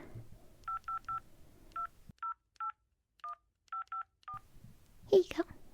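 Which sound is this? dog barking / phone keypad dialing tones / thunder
phone keypad dialing tones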